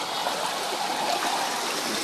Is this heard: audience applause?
no